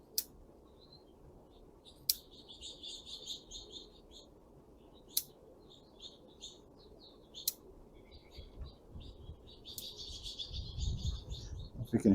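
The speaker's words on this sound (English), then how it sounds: "we've got these little finches that visit and kind of fight over the feeder a little bit" Small finches chirping around a backyard bird feeder, bursts of high twittering calls coming and going, with sharp clicks of bonsai pruning scissors at intervals and some low rumble toward the end.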